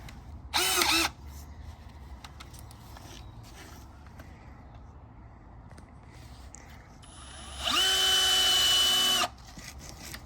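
Two loud bursts of a power drill whirring, one short and one longer, with quiet handling noise and faint clatter in between.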